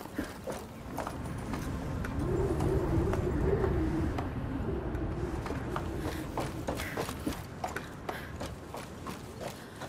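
Pigeons coo softly in A Plague Tale Requiem amid a busy outdoor ambience, with scattered clicks and taps and a low rumble underneath, and no one speaking.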